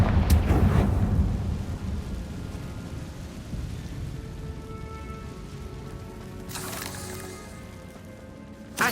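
A Confringo spell explosion in Hogwarts Legacy, a loud fiery burst at the start that decays into a crackling, rain-like rumble, with another flare of noise later in the clip.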